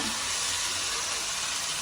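Oil sizzles and hisses loudly and steadily as anchovies fry in a pan, close up and without pause.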